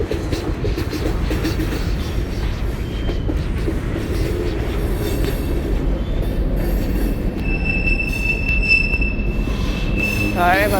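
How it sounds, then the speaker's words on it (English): A loud train rumbles past close by, heavy and continuous, with high metallic wheel squeals ringing out toward the end. "Sorry about that train."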